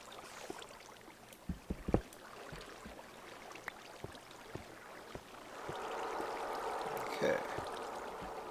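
Faint flowing water in Minecraft runs as a soft, rushing wash that swells in the second half, with scattered light clicks and soft talk around it.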